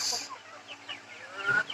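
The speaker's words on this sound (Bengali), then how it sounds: "এখানে আছে কিছু মুরগি টাইগার মুরগি আছে" Tiger-cross desi chickens in a small home coop give soft, close clucks and short calls, scattered unevenly across a brief stretch with no talking.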